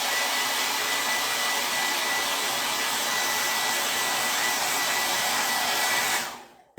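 A hair dryer used as a heat tool blows steadily and loudly on chalk paste over a craft piece, a constant broadband whoosh that cuts off near the end.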